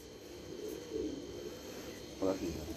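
Racing pigeons coo softly in a netted rooftop loft in Allahabad, with a few faint, low coos scattered across a quiet, hissy background.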